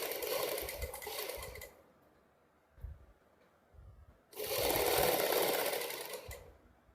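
A sewing machine stitches lace along the side slits and hem of a Punjabi suit. Two loud, fast whirring runs are split by a quiet pause with a few soft clicks.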